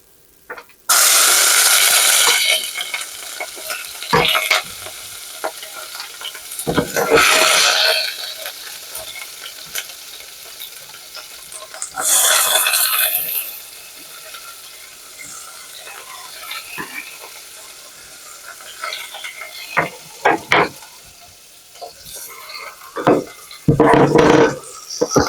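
Chicken soup ingredients drop into hot Crisco grease in a pan and burst into loud, crackling frying, which swells and fades in several bursts with stirring and scraping between them.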